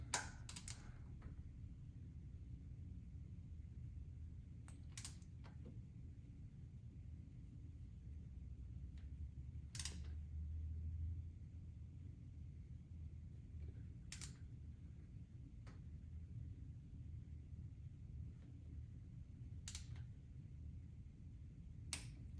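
A torque wrench set to 25 foot-pounds clicks as intake manifold bolts on a C3 Corvette 350 small-block are tightened: a few sharp, isolated clicks spaced several seconds apart over a faint, steady low hum.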